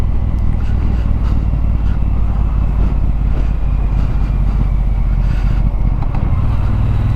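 A 2018 Triumph Bonneville T120 motorcycle with aftermarket exhaust pipes runs with a steady, loud engine rumble that fills the clip without a break, and no voices are heard over it.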